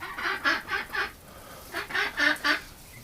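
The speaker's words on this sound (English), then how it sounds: "we got a duck on a nest" A duck sitting on a nest with eggs gives a run of honking quacks in two bursts, four calls then a short pause and four more, fairly close and clear.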